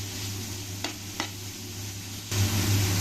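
Beans and capsicum sautéing in a pan, with a steady low sizzle broken by two brief stirring scrapes, then a louder burst of frying near the end, with no voices.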